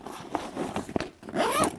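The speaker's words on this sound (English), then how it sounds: "all I do is unroll this top, zip this thing back up" A zipper is pulled shut on a camp kitchen storage bag in an outdoor cooking area, making a few short rasping zips followed by one longer close, near and distinct.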